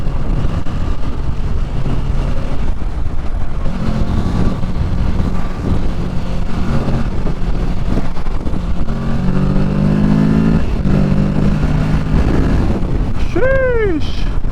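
A 2023 Kawasaki Ninja 650 motorcycle pulls hard on the road, its engine droning and rising in pitch under heavy wind buffeting on the microphone, climbing through gears near the end.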